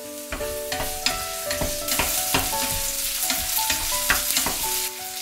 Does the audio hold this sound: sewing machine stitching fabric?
no